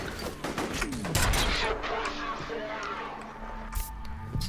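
Bursts of rapid gunfire and scattered shots crackle through a busy, noisy battle scene in the video game F.E.A.R., with a voice briefly breaking in over the din.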